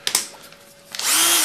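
A Festool CXS cordless drill fitted with an angled chuck attachment spins up into a loud, steady whirring whine after a few brief handling clicks.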